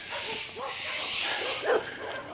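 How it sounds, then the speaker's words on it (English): Small dogs at a countryside camp bark and yip excitedly, several sharp calls overlapping close by, with a person talking over them. "Look at this dog."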